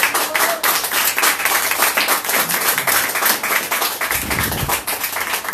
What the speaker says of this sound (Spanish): Palmas de alabanza al Señor.